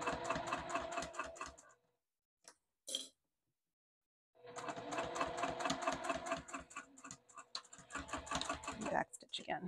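A sewing machine backstitching fabric for a wristlet, running in rapid rhythmic bursts with a pause and a few clicks between runs, heard up close.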